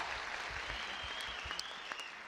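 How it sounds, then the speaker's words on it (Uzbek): Audience applause for rappers at a live Uzbek comedy show, a steady dense clapping crowd with no talking, moderately loud throughout. "Bitta qarsak so'rayman, repchilar uchun alohida qarsak so'rayman"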